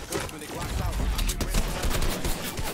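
Rapid bursts of gunfire crackle through a Fortnite 3v3 build fight, dense and continuous across the whole stretch with no clear gaps between shots.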